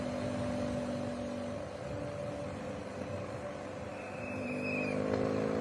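A race motorbike engine during a junior men's road cycling race, a steady, loud drone with rising whine near the end, heard alone without talk.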